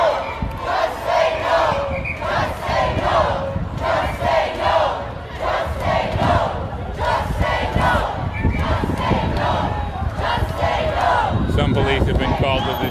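Roughly a thousand protesting healthcare workers outside a hospital in Toronto chant in loud rhythmic unison, a repeating crowd cry rising and falling through the whole stretch with shouts mixed in.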